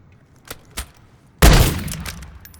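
A 725 shotgun in Call of Duty Modern Warfare 3 fires one loud, close blast that rolls off in a long decaying boom, after two faint clicks.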